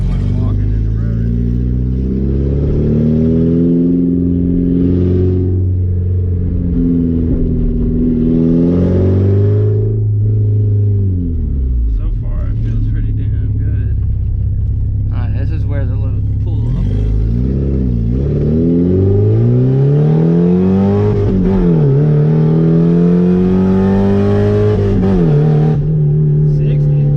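Porsche 944 with a straight pipe exhaust revs and accelerates through the gears, loud rising and falling engine notes with shifts between pulls, while someone talks over it.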